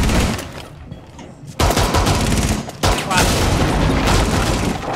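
Rapid gunfire bursts in the tactical shooter Rainbow Six, sustained and loud with a short lull early on, mixed with game effects and players talking over it.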